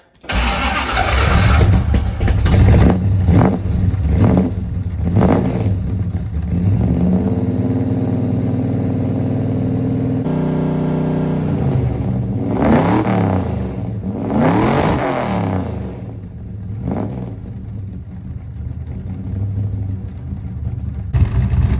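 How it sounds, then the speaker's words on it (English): A 1971 Dodge Demon's 340 V8 cranks and fires up from cold, settling into a loud, lumpy idle with several deep revs blipping up and down, close and continuous. "Cold start."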